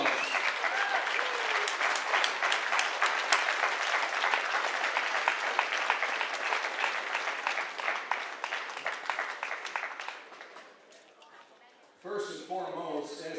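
Audience applause at a Michigan Battle Leagues tribute event, sustained dense clapping from a crowd for about ten seconds that fades out, followed by a voice beginning to speak.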